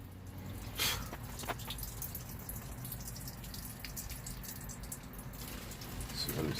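Water drips into the drains of a tonneau cover on a Chevy Avalanche truck bed, with faint scattered drops over a steady low background rumble.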